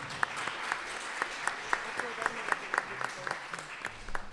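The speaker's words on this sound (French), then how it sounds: "On va les applaudir, soyez les bienvenus" A church congregation at a Saint Nicolas vigil applauds newcomers, with scattered, moderately soft claps forming an uneven rhythm and crisp individual hits standing out, while murmuring voices run underneath.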